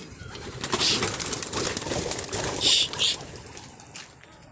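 Racing pigeons around a loft make soft coos along with bursts of flapping wings. The sound is close and moderately loud, with a faint hum of background noise.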